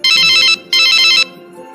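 A phone rings for an incoming call with two loud electronic ringtone bursts, each about half a second long and separated by a short gap, close and clear with no talking.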